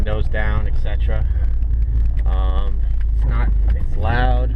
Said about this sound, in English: It's loud. It's not too loud, but here's a little. It's a little full throttle right there.